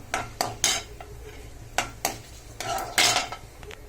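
Eggplant being sautéed and stirred in a pan, with sharp clinks and scrapes of a spoon against metal at an irregular rhythm over a faint sizzle, close by with no talking.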